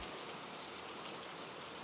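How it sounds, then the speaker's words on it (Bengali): A sound effect of heavy rain with stormy wind: a faint, uniform rushing hiss that continues without a break and carries no voices. "প্রবল বৃষ্টির সাথে ঝোড়ো হাওয়া বইছে"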